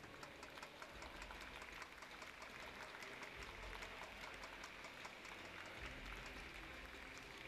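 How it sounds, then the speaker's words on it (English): An audience at the 2013 New Zealand Badminton Open final claps for the presenters, a dense, continuous patter of applause that sounds quiet and distant, holding steady throughout. "So a round of applause for our presenters,"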